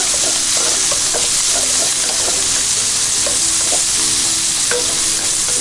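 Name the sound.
pancetta and garlic sizzling, stirred in a pan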